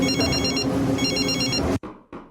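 A telephone bell rings steadily in two long, even bursts of trilling tone, loud and close, cutting off abruptly before a short pause and faint echo.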